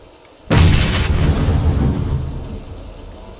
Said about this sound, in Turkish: Bomba geldi yine.